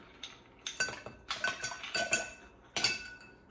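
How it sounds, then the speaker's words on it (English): Ice dropped into a mixing glass for a Martinez cocktail, giving a quick series of close, bright clinks and rattles of cubes against glass in irregular bursts, with no talk. "we're gonna put some ice in here"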